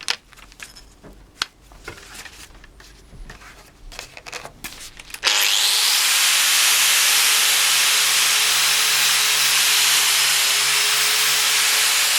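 After a few seconds of clattering handling noises, a Dewalt DWE4217 125mm angle grinder with a flap disc starts up, producing a steady, loud, hissing abrasive sanding whir that runs unbroken to the end.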